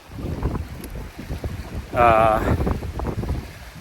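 Strong wind gusting over a lake, roaring steadily as broadband buffeting close to the microphone, with a louder surge midway and a brief whistling tone riding on top.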